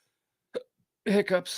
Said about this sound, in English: sometimes my breathing patterns and rhythms, they get disrupted, and hiccups are an inevitability